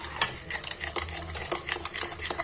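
A spoon stirs fondant au chocolat batter in a bowl, giving a steady run of quick, close scraping strokes with a soft rhythmic texture and no talking.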